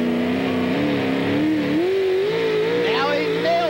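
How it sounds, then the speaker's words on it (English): A 1950 Chevrolet pulling truck engine screaming at full power on a hot evening at a pulling event, a loud sustained roar with a clear rising and wavering pitch, heard throughout under an announcer's voice. "Listen to that motor work out here in this hideously hot evening"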